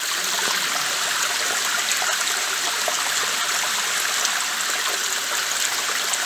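A strong underground stream current rushes through a cave near a waterfall, a dense, steady roar of flowing water filling the space without pause.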